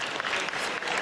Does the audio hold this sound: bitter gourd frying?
no